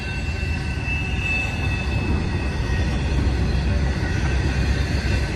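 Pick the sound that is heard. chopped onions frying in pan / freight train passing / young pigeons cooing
freight train passing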